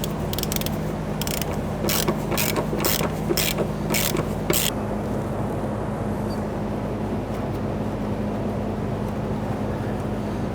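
A hand ratchet snaps out a quick series of sharp clicks, close by, while starting bolts on the fuel tank straps of a 2006-2012 Toyota RAV4, then stops, leaving a steady low hum.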